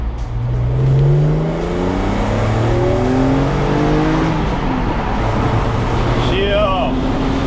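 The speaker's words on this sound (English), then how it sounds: "Let's do a second gear pull." A car pulls hard in second gear on a road, its engine note climbing steadily through the rev range, loud and close from inside the cabin, with road and wind roar under it and brief talk near the end.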